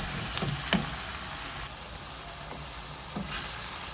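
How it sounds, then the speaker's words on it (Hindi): Tomatoes and onions fry together in a hot pan for a dum pukht biryani, giving a steady, even sizzle with a few sharp utensil clicks and scrapes as they are stirred. No voices. "और अब टमाटोज़ और अनियंस को हम एक साथ फ्राई करेंगे जो बाकी रह गए हैं।"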